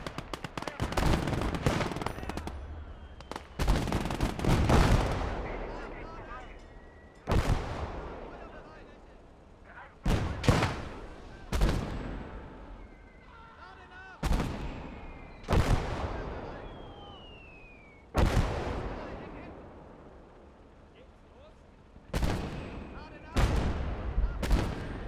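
Heavy artillery booms in a war video game, about a dozen sharp blasts spaced a few seconds apart, each trailing off in a rumbling decay, with some bursts doubled close together.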